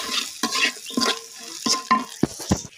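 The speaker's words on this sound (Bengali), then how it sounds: "আরও 1 মিনিট ভেজে নিব।" Dried shrimp fried with chili and turmeric in a pan, a utensil stirring with quick, close scrapes and knocks over a soft sizzle.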